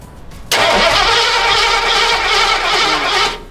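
A Ford Galaxie engine cranks steadily for about three seconds without catching, a loud, continuous whirring churn that stops abruptly.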